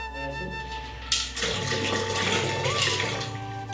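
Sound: water spilling out of a home aquarium

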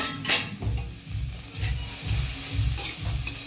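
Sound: stirring cabbage frying in a pan

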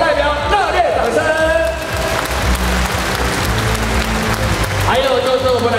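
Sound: audience applause at award ceremony

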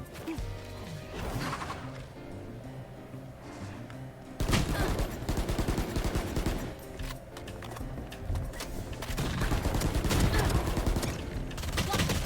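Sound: gunfire from the video game Valorant

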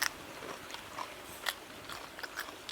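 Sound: biting into a raw wild vegetable pod

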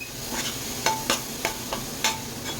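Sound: spice paste sautéing in oil

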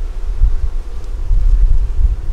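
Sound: honeybees flying around a hive

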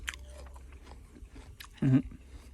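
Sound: biting into a crisp Israeli pear

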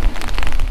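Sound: hail falling

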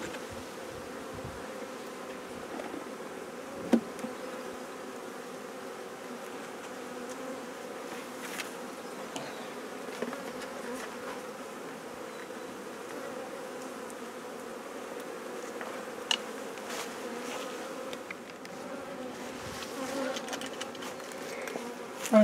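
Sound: honeybees buzzing at the hive

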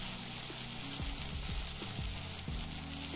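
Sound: eggplant slices frying in a pan

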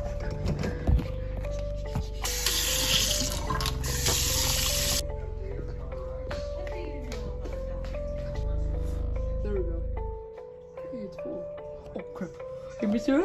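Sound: sink tap running water in a video game

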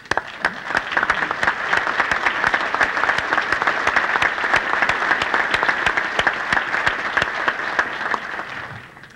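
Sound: audience applause

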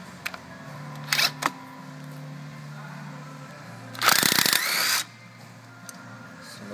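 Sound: removing 10 mm ABS sensor bolt on Ford Escape

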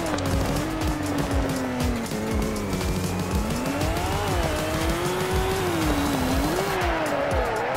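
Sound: car drifting with tire squeal in video game Car Crushers 2

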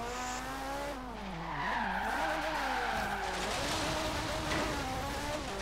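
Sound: car drifting with tires skidding in Forza Horizon 3 video game

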